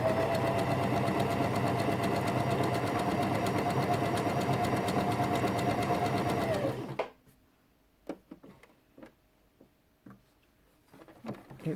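A Janome FD206 or RE1306 sewing machine stitches a blind hem on stretchy fabric, running steadily and loud for about seven seconds, then stopping abruptly, with a few faint clicks and taps afterward.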